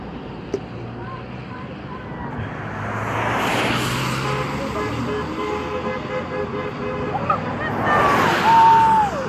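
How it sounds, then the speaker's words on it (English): Cars and trucks pass along a road beside a bridge-blocking protest in Canada, a steady roar of traffic with a horn toot and a rising tone near the end, with crowd chatter mixed underneath. "As you can hear, there's a lot of support from cars passing by"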